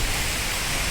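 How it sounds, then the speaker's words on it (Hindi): Summer rain falling outdoors, a steady, even hiss that continues unbroken and fairly loud throughout. "जब गर्मियों में जब ऐसी बारिश पड़ती है ना बहुत अच्छा लगता है"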